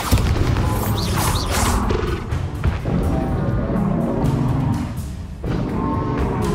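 A Bombarda spell explodes in Hogwarts Legacy amid a dense, continuous rumble of booming blasts and crashing combat effects, loud and unbroken from start to finish.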